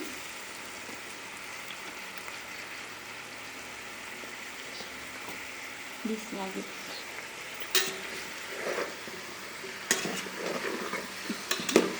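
Chicken pieces sizzling in hot oil inside a rice cooker, a steady hissing fry with occasional sharper clicks and scrapes of stirring toward the end.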